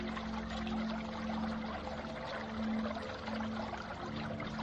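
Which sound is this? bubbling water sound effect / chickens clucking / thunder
bubbling water sound effect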